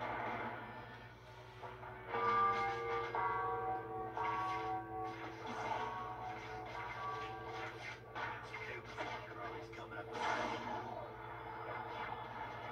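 A bell struck during combat in the Xbox 360 game Spider-Man Web of Shadows, ringing out with long resonant tones over a steady game hum and scattered action noises.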